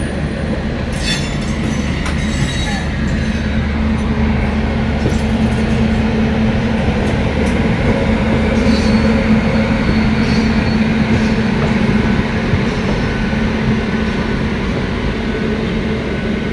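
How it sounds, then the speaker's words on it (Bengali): The Tirupati–Howrah Humsafar Express rolls into Howrah station at night with a loud, continuous rumble and rail clatter, with faint wheel squeal over the steady roar and no talking. "হামসফর এক্সপ্রেস তিরুপতি থেকে আসছে, তিরুপতি হাওড়া হামসফর এক্সপ্রেস।"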